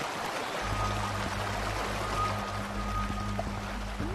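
Steady rushing of flowing flood water in the Gorilla Tag cave flood game mode, a continuous wash of noise with a low hum underneath and no speech.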